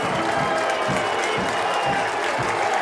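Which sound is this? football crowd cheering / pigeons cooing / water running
football crowd cheering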